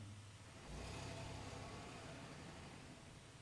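A steady mid-pitched vehicle engine hum from a bus ride in the Stardew Valley video game, swelling slightly and holding at a constant drone without speech.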